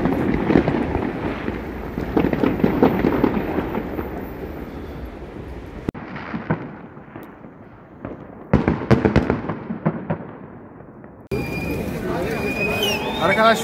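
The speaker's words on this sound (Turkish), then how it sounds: "Şu binanın arkasında patlatıyorlar havai fişekleri." New Year fireworks bursting behind a building near Red Square in Moscow, a dense run of sharp cracks and booms with crowd noise, some close and loud, others more distant.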